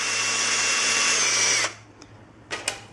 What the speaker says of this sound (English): you could just clean it up with the drill here, make it a hole a little bigger.